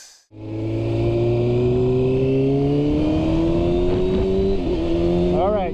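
A 2019 Kawasaki ZX6R motorcycle with a Cordona PQ8 quick shifter at its factory default setting, its engine revving loud and close with rising pitch, then a quick clipped shift cut and a stuttering rev change near the end.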